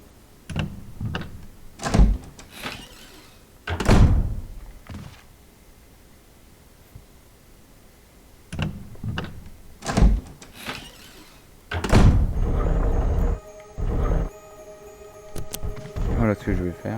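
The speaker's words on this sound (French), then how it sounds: "Mais non, je voulais pas prendre la porte" Door opening in the survival horror game Resident Evil HD, with several heavy thuds and creaks spread over the clip and a longer, louder burst near the end, while someone speaks.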